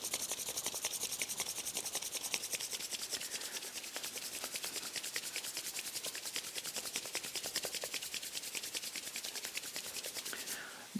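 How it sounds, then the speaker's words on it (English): Two hands rubbed together hard and fast, a steady dry rasping friction that runs continuously for several seconds, close and even, with no talking. "just intensely rub these two hands together for a minute"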